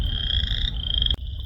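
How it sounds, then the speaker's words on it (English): A dense chorus of frogs trills steadily in a high, continuous drone, close and loud, cutting off abruptly near the end before resuming more faintly. "I heard this cacophony of frogs."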